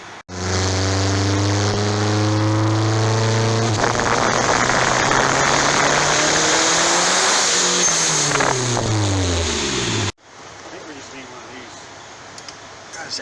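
A turbocharged Honda Integra running on a dyno with its boost turned up revs hard and loud, engine pitch climbing and sweeping through the gears before cutting off sharply, leaving low idle and background noise.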